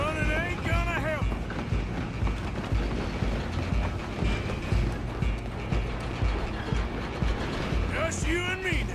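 A train rumbling and clattering along the tracks in Red Dead Redemption 2, with continuous mechanical rattling and clanking, brief whistle-like squeals, and voices talking over it.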